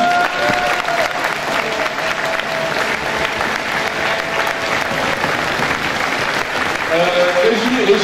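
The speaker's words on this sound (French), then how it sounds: "on vous applaudit" A crowd claps at the closing ceremony of a French student integration week, sustained applause throughout that swells toward the end, with a voice or cheer briefly rising above it near the close.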